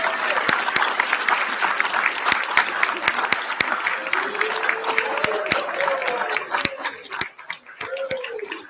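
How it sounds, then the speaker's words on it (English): At a city council meeting, the audience applauds the overall team champions of a five-star bus rodeo: loud, sustained clapping from many people with sharp individual claps and some voices mixed in. "So let's give them a round of applause."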